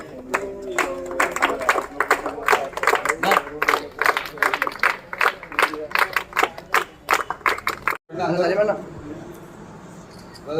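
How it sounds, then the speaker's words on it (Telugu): A crowd clapping at a birthday celebration for Sonia Gandhi held in Warangal, sharp rhythmic claps mixed with loud voices and chatter, then a sudden break and a quieter murmuring stretch at the end. "చప్పట్లు కొట్టండి నాన్న హ్యాపీ బర్త్డే హ్యాపీ బర్త్డే"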